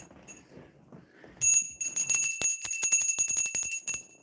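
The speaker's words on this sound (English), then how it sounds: "Where's my bell at?" An heirloom hand bell handed down from a grandmother rings in a kitchen, starting suddenly after a near-silent stretch and then shaking in quick repeated strikes with bright sustained shimmer, close and fairly loud.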